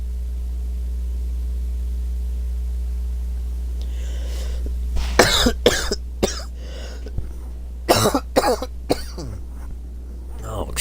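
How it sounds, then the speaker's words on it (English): A streamer coughs several times in quick, harsh bursts, close to the microphone, after a stretch of steady electrical hum, with throat clearing mixed in. "Sorry for coughing, guys."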